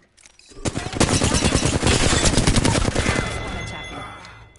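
Loud, rapid automatic gunfire in the Apex Legends video game, a dense burst of closely spaced shots that rolls for about two seconds before trailing off with a fading ring.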